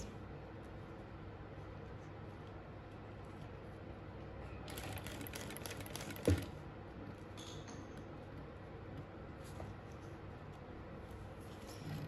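A sewing machine stitches along the zipper of a bag, producing a brief burst of rapid mechanical ticking in the middle of an otherwise quiet, steady room background.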